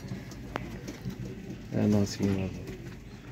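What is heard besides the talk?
pigeons cooing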